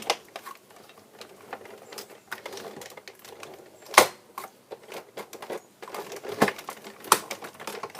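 A Creativity fuse sheet and white paper on a plate feed through a cutting machine, giving faint, irregular mechanical clicks and ticks with a few sharper snaps, fairly quiet and close.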